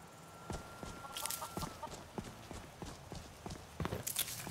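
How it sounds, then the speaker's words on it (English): A chicken clucks in Skyrim, short clucks scattered over steady clip-clopping hooves with a brief higher cackle near the end, heard against constant outdoor game ambience. "Chicken."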